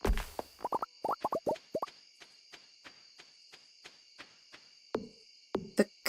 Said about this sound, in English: The hum of the cicadas.